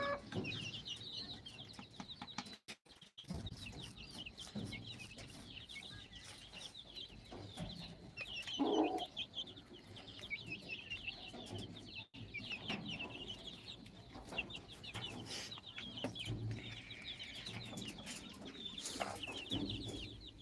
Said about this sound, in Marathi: पिल्ले त्यांच्या आईबरोबर खूप छान प्रकारे दाणे टिपताना